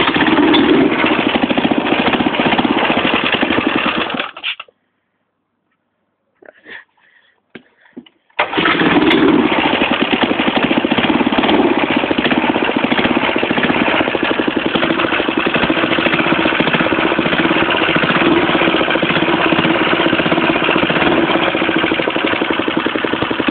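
A 4hp go-kart engine starts and runs loud and close with a rough, steady putter. It cuts out for a few seconds, sputters, then catches again and holds a strong, even idle.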